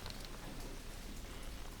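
Soft, steady rain falls as an even hiss, faint and unbroken, with no voices over it.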